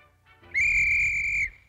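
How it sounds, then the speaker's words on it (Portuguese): A single shrill whistle is blown in a Woody Woodpecker cartoon, one sustained, piercing toot lasting about a second after a soft lead-in, loud and alone. "Não tenha medo, Veloz, está vendo esse apito? Bem, se o lobo aparecer, é só apitar assim"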